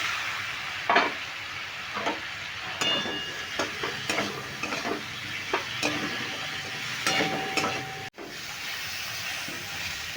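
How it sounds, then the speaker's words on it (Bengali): Raw green mango pieces stirred in a hot pan, repeated spoon scrapes over a continuous sizzle and steamy hiss, close and steady, with one brief dropout and no talking. "দেখো আমগুলো আমি নেড়ে নিলাম দু তিন মিনিট"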